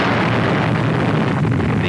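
A massive rumbling roar from the 1944 Port Chicago Naval magazine explosion near San Francisco plays as loud, continuous, dense noise, rendered as archival newsreel sound, with no voices heard.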